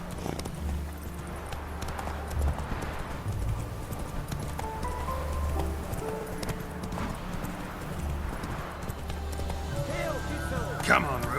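Roach the horse galloping in The Witcher 3, rapid rhythmic hoofbeats drumming steadily with a brief snort, game music underneath and a voice talking over it.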